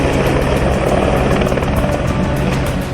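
A Dhruv military helicopter flies during a joint tri-service operation, dropping commandos, its rotor beating a loud, steady, close throb throughout with no voices.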